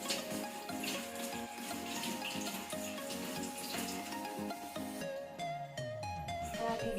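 Hands are rinsed under a running tap, a steady rush of water broken by uneven splashes as they move through the stream.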